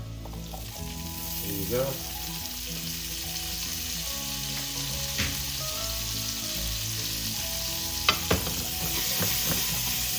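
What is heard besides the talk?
asparagus frying in a pan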